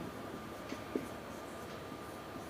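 Chalk writing on a classroom board during a maths lesson, a faint scratchy stroke with a couple of soft taps against a quiet room, no speech.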